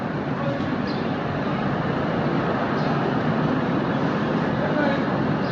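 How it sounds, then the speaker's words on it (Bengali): Steady rumbling of a local passenger train running from Srinagar to Banihal, a continuous broadband roar with faint rattling, heard from inside the carriage. "এটা হচ্ছে লোকাল গাড়ি কিন্তু খুব সুন্দর চলছে"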